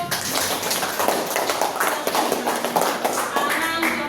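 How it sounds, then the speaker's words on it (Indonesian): Classroom applause for a student named Ratu during a weather and climate lesson, a busy burst of many children's hands clapping close by, mixed with a few voices. "Tepuk tangan untuk Ratu"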